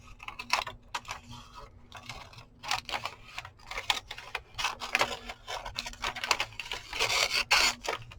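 Big scissors cut through a large sheet of paper, giving repeated dry rasping snips and rustles at close range in an irregular rhythm.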